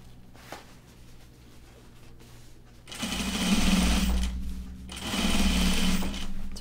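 A sewing machine edge-stitches stretch woven denim for a pair of bib overalls, running in two loud, steady bursts separated by a short pause after a quiet lead-in.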